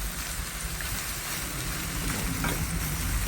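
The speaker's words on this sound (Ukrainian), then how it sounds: "ще наше м'ясо трішки підсмажиться" Meat and onion fry in a kazan for plov, a close, steady crackling sizzle like heavy rain on a surface, continuous and even.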